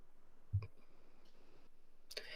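A few quiet, isolated computer mouse clicks sound close by during board settings navigation, with short pauses between them.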